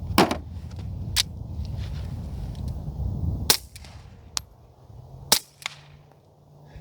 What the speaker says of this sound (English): You can hear the bullet fly down range through the air and hit the tree down there.